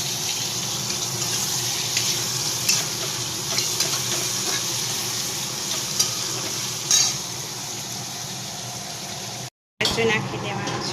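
Potatoes fry in a pan of oil with cumin and garlic, a continuous close sizzle with occasional stirring scrapes and a short dropout near the end.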